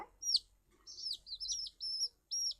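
Baby chicks peep in a rapid series of high, thin chirps, close by and fairly loud, with short pauses between bursts and no talking over them.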